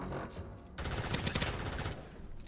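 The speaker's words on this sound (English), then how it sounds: "Yeah, that's SMG's fire." SMG fire in the video game Starsiege: a dense burst of rapid shots lasting just over a second, loud and close, after a quieter stretch, then fading into a softer rumble.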